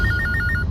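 A telephone rings in a Bengali crime drama scene: a steady electronic ringtone repeating in quick paired bursts, clear and close over a low background hum.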